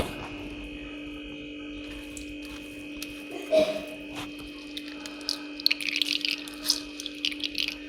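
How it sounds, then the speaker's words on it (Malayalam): Coconut milk splashes and trickles as grated coconut is squeezed and drained through a strainer, with a few wet drips and squelches over a low steady hum. "നമുക്കിത് പിഴിഞ്ഞിട്ട് ഒന്നാം പാൽ ആദ്യം ഒന്ന് എടുക്കാം"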